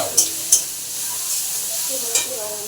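Spices and ingredients, including black pepper, are stirred in a hot frying pan for an elephant-foot yam and prawn curry. A soft steady sizzle is broken by a few sharp scrapes of the spoon against the pan.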